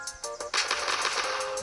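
Rapid gunfire in a shooting video game: a few spaced shots, then a dense burst of automatic fire rattling on steadily at moderate volume, with no voices.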